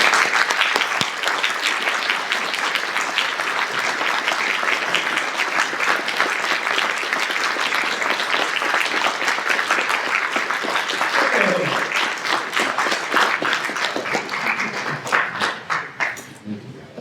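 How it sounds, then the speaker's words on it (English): Audience applause after a keynote at a gaming event, loud steady clapping with crowd noise lasting over fifteen seconds and thinning toward the end as a voice starts to speak. "yes, I heard the applause"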